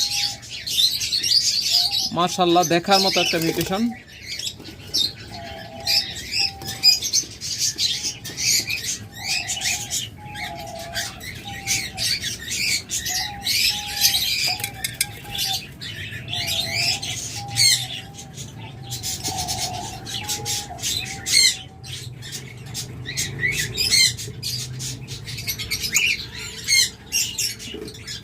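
Caged lovebirds chirp and squawk continuously in quick, repeated bursts, with a brief burst of wing flapping early on; someone speaks briefly over the busy chatter.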